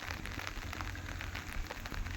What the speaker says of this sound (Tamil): பாருங்கள் மழை எப்படி பெய்யுது பாருங்கள்